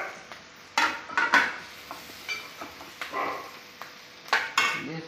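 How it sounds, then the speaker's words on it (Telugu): Turmeric stirred in a pan while making curry for puri, a spoon scraping and clinking against the metal in a run of short, irregular strokes, close up with a faint sizzle and no voices. "పసుపు వేసుకొని తిప్పుకోవాలి"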